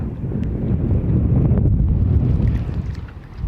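Steady wind roars and buffets the microphone in a continuous low rumble, with faint outdoor noise beneath it and no one speaking, on a windy winter day at Balandra beach, Baja, Mexico.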